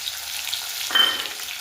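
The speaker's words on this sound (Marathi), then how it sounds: "त्याच्यानंतर मी ऍड करते याच्यात कांदा, 1 मोठा कांदा आहे, तो परतून घ्यायचा व्यवस्थित" Onion sautéing in hot oil in a pan for Maharashtrian dodka dal, a close steady sizzle with a brief louder hiss as the pieces are stirred.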